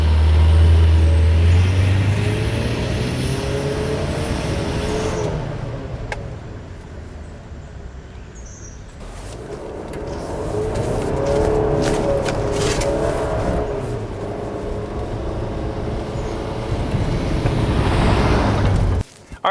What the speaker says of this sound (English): I'm gonna brake boost it and launch it.